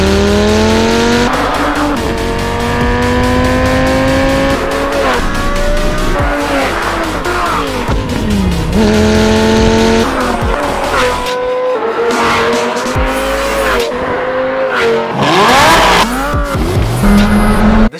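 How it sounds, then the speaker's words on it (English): A 2006 six-speed manual Lamborghini Gallardo with a straight-pipe X-pipe exhaust revs loudly and rises and falls in pitch, with repeated tire squeal and skidding throughout and a brief voice talking over it. "when this thing drives with its straight pipe, X-pipe exhaust system that Life of Palos gave him"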